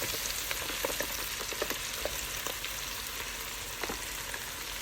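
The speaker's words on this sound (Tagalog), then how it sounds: "Ilagay na natin yung carbonara sauce." Carbonara sauce poured into a hot pan sizzles in a steady, fairly quiet hiss, with scattered small crackles and pops throughout. No voices are heard.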